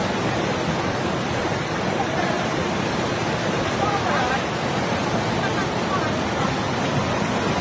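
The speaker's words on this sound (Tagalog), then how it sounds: "Sus, grabe ang baha ka na po." Floodwater in Barangay Zaragosa, Davao Oriental, rushes without a break in a dense, steady roar, loud and close, with no distinct voices over it.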